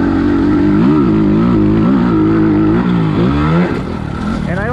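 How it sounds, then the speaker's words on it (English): An SSR SR300 dirt bike fitted with a Pro Circuit exhaust revs on a county park track, its engine note rising and falling loudly and close as the rider works the throttle, with a voice partly over it. "I am testing the Pro Circuit exhaust on the SR300"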